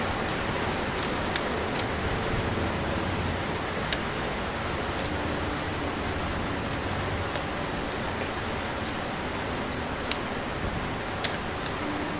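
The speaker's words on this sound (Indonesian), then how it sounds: "Hujannya gede." Heavy rain pours down in a dense, steady hiss that fills the whole stretch, with occasional sharper drops ticking through the wash and no voices.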